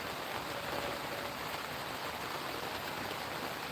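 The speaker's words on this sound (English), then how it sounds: "It's raining, genius." Steady rain pouring down outdoors during an informal plinking session, a continuous even broadband hiss like a stream or downpour, with no other distinct sounds standing out.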